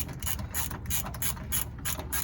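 Hand ratchet loosening bolts on a Dodge D100 pickup truck, rapid rhythmic clicking of the pawl in repeated bursts, close and loud with no talking.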